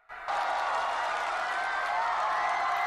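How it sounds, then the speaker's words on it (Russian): A large concert audience applauds a singer, a dense, steady wash of clapping and cheering that swells in suddenly and holds loud and continuous. "Там много людей, и все приветствуют его аплодисментами"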